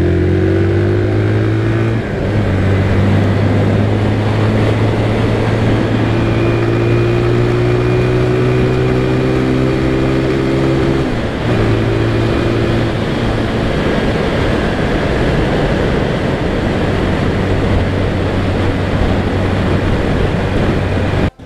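A Vento Rocketman 250 cc motorcycle being ridden, its steady engine drone loud and close with pitch shifts as it changes gear and speed, no talking over it.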